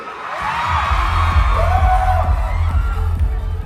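A concert crowd cheers and roars loudly at a concert, a dense, sustained wall of voices and whoops running through the whole moment.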